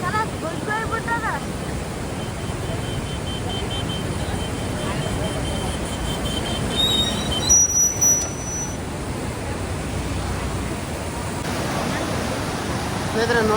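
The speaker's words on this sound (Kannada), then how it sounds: "ನೋಡ್ರಿ ಎಷ್ಟು ಫೋರ್ಸಾಗಿ ನೀರು ಬರಕುಂತ" Floodwater of the Bhima river at Yadgir rushes forcefully past a new bridge, a loud continuous roar mixed with wind buffeting on the microphone.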